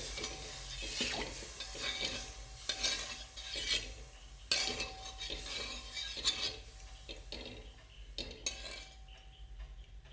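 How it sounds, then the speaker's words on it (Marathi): Milk and jaggery mixture for wheat kheer being stirred in a pot, a steady scraping and swishing of a spoon with faint sizzling and occasional light clinks of metal, continuous and fairly close, with no talk. "हे चांगलं मिसळून घेऊ हे मिश्रण व्यवस्थित मिसळून घ्या"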